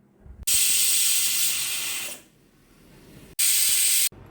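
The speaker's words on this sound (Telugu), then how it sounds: "cooker whistle తగ్గిపోయిందండి" A pressure cooker on a stove, boiling cowpeas in water with a little oil, releases steam through its whistle in two loud, sharp hissing bursts. The first is longer and fades out, and the second cuts off abruptly.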